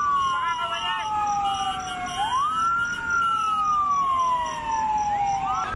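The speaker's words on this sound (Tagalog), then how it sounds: "Within 4 minutes, tumating yung ating fire truck with the firemen of Clark Development Corporation" A fire truck siren wails as it responds to a burning gas station in Clark, its sweeping rising and falling tone loud and continuous over background street noise.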